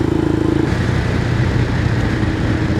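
A Royal Enfield Himalayan 411 motorcycle, freshly fitted with new valves, runs on a moorland road test at low revs, a steady, droning single-cylinder hum with a close, even throb and no talk.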